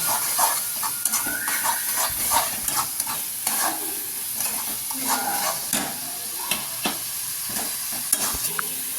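Whole cumin, cumin paste, salt, sugar and turmeric frying in a pan, a loud crackling sizzle broken by repeated scraping stirs and clatters of a spoon against the pan.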